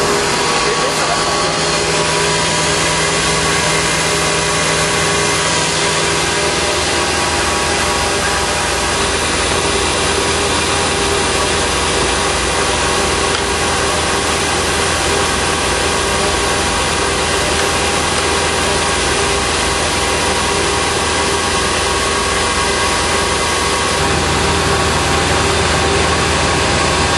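A delivery vehicle engine idles steadily and loudly for the whole stretch, a constant droning rumble with a slight shift in tone near the end.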